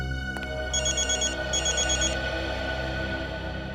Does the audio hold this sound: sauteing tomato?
no